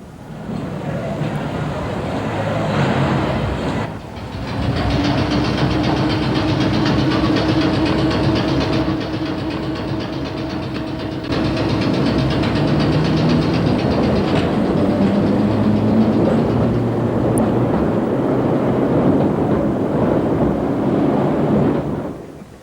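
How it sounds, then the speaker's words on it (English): Old London Underground trains on the Isle of Wight rumble past loud and close in 1988, a long continuous roar with rhythmic wheel clatter and brief dips as carriages pass, voices faintly beneath. "old tube trains have been running on the Isle of Wight since steam days"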